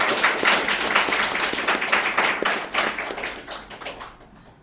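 A church congregation claps for newly announced catechumens during a Sunday worship service: dense, steady applause from many hands that fills the room, then gradually thins and fades out at the end.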